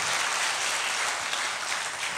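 A church congregation claps together during a sermon, producing dense, steady applause that fills the whole stretch at a fairly loud, even level with no voices on top.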